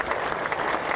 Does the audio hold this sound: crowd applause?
yes